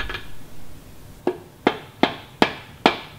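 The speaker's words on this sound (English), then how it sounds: "Then go ahead and remove the axle." An axle is driven out of a Victory motorcycle front wheel with five sharp, evenly spaced metallic knocks, close and loud, following a quieter stretch.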